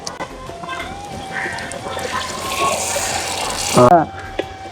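Dissolved tamarind water pours into a clay pot for fish curry, a close, steady liquid stream that swells toward the end and then cuts off abruptly.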